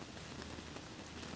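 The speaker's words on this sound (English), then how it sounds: "Rain falls," Rain falling, a faint, steady hiss of drops hitting a surface, continuous and even with no voices.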